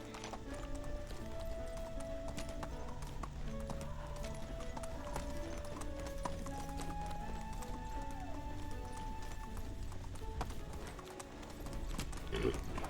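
Horse hooves clip-clop steadily at a gallop through the whole stretch in the medieval survival game Medieval Dynasty, with occasional whinnies and ambient game music underneath.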